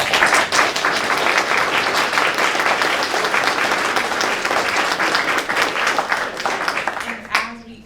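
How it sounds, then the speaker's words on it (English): An audience claps for cybersecurity career panelists, a dense, sustained round of applause lasting several seconds before it thins out and a voice briefly cuts in at the end. "Please give them a round of applause."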